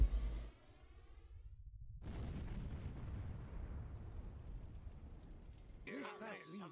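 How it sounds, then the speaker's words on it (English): Thor's hammer seals the Norse gate in the Age of Mythology video game: a sudden, loud, broadband blast hits after a quieter opening, then a long rumbling, crackling roar that slowly fades, with other game sounds creeping in at the end. "The resulting explosion creates a hole in the earth, scattering our remaining forces above ground."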